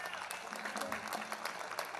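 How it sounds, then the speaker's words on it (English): Steady applause from a college jazz band concert audience, dense clapping filling the room, with some voices mixed in underneath. "Give him a round of applause."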